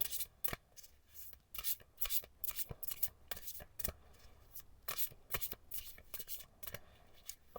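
Tarot cards being turned over and handled, giving a steady run of soft flicks, slaps and papery rustles close by, with quiet talk now and then.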